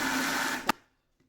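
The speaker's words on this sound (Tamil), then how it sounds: "ரெடியான மாவை அம்மா மிக்சியில் போட்டு இந்த ஒரு சுற்று சுற்ற போகிறேன்" A kitchen mixer grinder runs on roasted health-mix flour, a steady loud whirring motor that stops abruptly with a short clunk, leaving near silence.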